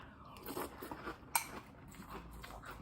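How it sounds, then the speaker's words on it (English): A spoon stirs Halloween Fruity Pebbles cereal in milk, making a soft, continuous wet crunching and rustling close up, with one brighter clink of the spoon against the bowl partway through. "I like to stir them up in my milk before I eat them"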